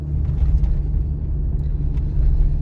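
Car interior during a driving test on a city street, a steady low engine and road rumble at close range with a faint hum and no talk.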